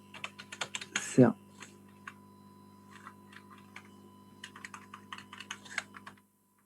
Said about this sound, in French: Alors, on va taper.